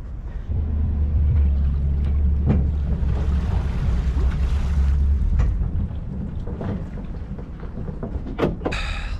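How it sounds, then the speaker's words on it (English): A boat being winched up onto a boat trailer with its engine off: a continuous low mechanical hum and scraping drag for several seconds, with a few sharp knocks and clanks, ending in a brief bright metallic rattle. "let's get her on the boat trailer"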